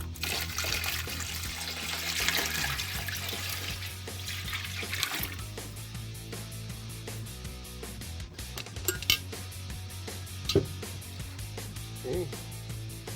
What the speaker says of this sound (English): Okay, now we gotta pour some water in there.